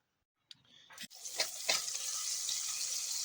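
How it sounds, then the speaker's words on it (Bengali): Onions fry in hot oil for a fish curry. After silence, a couple of sharp clatters land as they go into the pan, then a loud, continuous hiss-sizzle holds steady to the end. "এই যে মাছের ঝাল হচ্ছে, এখন পেঁয়াজ ভাজা চলছে"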